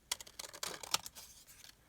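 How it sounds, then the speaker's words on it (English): Scissors cut through a paper postcard in a quick run of crisp, close snips and rustles lasting under two seconds, with no talking. "I'm just going to cut it and put it out here"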